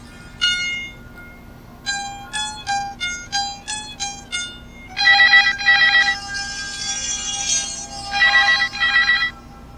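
An electronic phone ringtone plays a bright repeating melody of beeping notes, loud and close, looping through several phrases.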